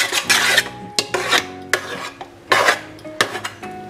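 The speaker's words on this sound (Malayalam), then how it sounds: "കറക്റ്റായി കട്ടയായിട്ടിരിക്കുകയാണ് ഒന്ന് നന്നായിട്ട് നമുക്കൊന്ന് ഇളക്കി കൊടുക്കാം" Thick, set homemade hand wash stirred in a container, giving repeated wet scraping and rasping strokes in uneven bursts, close and loud with no talk.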